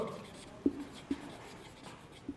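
A pen scratches across paper as someone writes by hand for a chemistry lesson, faint steady scraping broken by a few soft taps, close and quiet.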